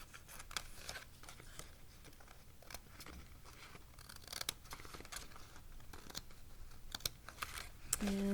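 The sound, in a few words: scissors trimming fabric and paper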